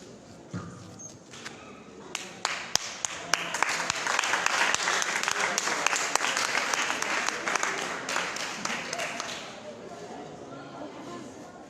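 Audience applause at a nativity-themed contest finale, a dense crowd clapping that builds over several seconds, holds steady, then thins out, with scattered sharper claps and faint voices mixed in.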